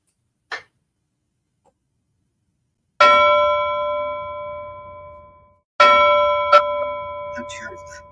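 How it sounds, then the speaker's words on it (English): A bar's last-call bell rung twice, each strike a bright metallic clang that rings out and slowly decays for several seconds, preceded by a single short tap; no talking. "So let's try to ring that bell again."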